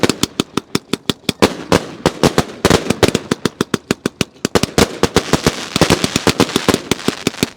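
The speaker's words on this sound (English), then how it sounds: "Firework is awesome" New Year's Eve fireworks crack and bang in rapid, uneven bursts, dozens of sharp loud reports, some clustered into quick rattling volleys, close and continuous throughout.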